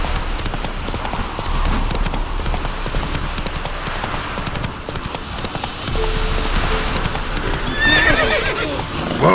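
Roach, a horse in The Witcher 3, clip-clops steadily at a gallop with a clear whinny near the end, close and continuous, with a faint voice briefly under it.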